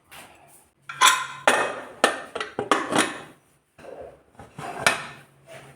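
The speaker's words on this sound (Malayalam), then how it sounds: "ഇനി ഇത് ഒരു പത്ത് മിനിറ്റ് അടച്ചു വയ്ക്കാം" A pot is covered with a lid after coconut oil is stirred into a papaya and sweet potato dish, giving a string of close, loud clanks and knocks of metal and utensils against cookware with short pauses between.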